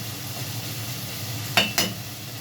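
A monggo dish with fish and bitter gourd sizzling steadily in a pan, with two sharp stirring scrapes close together near the end over the constant frying hiss.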